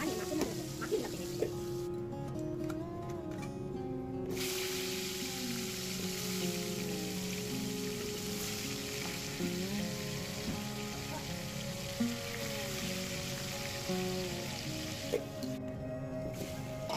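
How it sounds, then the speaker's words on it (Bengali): Pieces of shankar fish fry in hot mustard oil in a wok, making a dense, even, crackling sizzle like rain with scattered small pops. It continues steadily for a long stretch with no speech. "তারপরে কড়াইতে তেলটা ভালো করে গরম করে মাছগুলোকে সুন্দর করে ভেজে নেব।"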